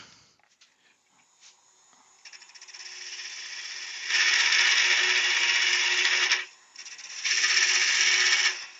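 A cocktail stick holder is being turned on a wood lathe, and the tool cuts close to the chuck jaws with a loud, steady scraping rasp. The sound grows over the first seconds, then comes in two sustained cutting passes with a short break between.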